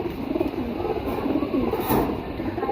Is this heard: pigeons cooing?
yes